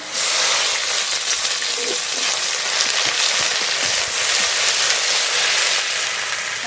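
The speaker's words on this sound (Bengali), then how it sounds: "রসুনটা একটু ভাজা ভাজা করে নেব" Garlic frying in hot oil, a steady loud sizzle with a dense crackle that continues evenly throughout, with no voices.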